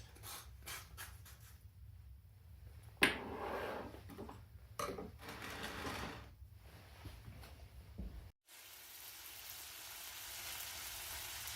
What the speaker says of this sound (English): You can hear that bacon sizzling pretty good.